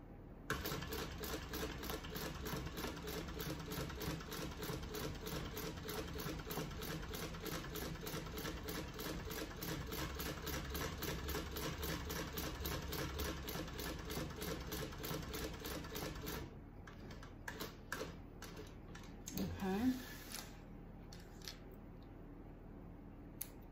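A sewing machine stitches a fabric bag in a steady, rapid mechanical rhythm for about sixteen seconds, then stops, leaving soft handling and rustling of the material.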